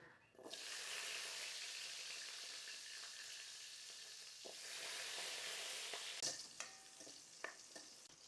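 Small shallots drop into hot sesame oil and hiss into a broad, steady sizzle that swells again midway. A few scraping stirs and light clinks come near the end.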